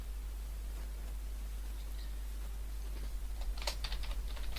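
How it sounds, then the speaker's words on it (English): A noisy computer keyboard is typed on during a computer science lesson stream, with faint scattered keystrokes over a steady hum of background noise that grow into a few sharper clicks near the end, with no talk. "I'm sorry if my keyboard is really noisy"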